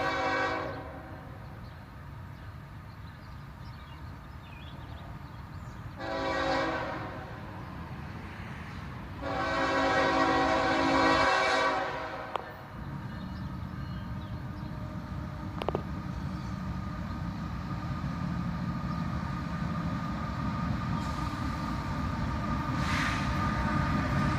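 A southbound freight train pulls in led by two locomotives, its horn sounding in long loud blasts with a short gap between them, over a steady rumble of engines and rolling cars.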